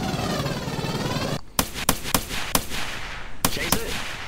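Gunshots in a forest monster-hunting video game, several sharp cracks spaced unevenly after a steady hissing rush of ambient noise, fairly loud and close, with no voice over them.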